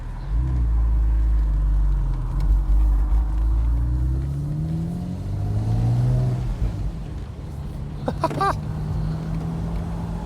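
An original Porsche Spyder's engine revs in sport mode, a loud close rumble that climbs in pitch, settles, then swells again, with a brief higher mechanical whine near the end.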